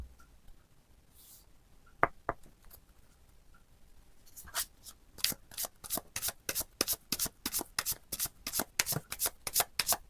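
Tarot cards are riffled and shuffled by hand, a few separate flicks at first and then a steady rapid run of crisp card snaps, close and clear with no talking.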